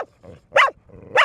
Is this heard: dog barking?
yes